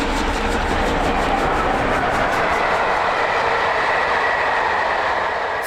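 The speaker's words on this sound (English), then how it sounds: "a long express train whizzing by at speed" A long express steam train rushes past at speed, a loud, steady roar of wheels and rushing air with a faint rhythmic clatter throughout.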